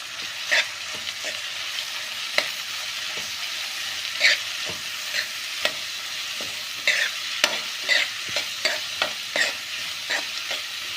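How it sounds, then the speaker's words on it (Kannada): Onions and curry leaves frying in oil for egg bhurji, a continuous close sizzle punctuated by repeated clicking scrapes of a spoon stirring the pan, steady throughout with no speech. "ಫ್ರೈ ಮಾಡಿ."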